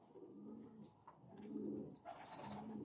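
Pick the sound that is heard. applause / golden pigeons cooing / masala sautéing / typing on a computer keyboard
golden pigeons cooing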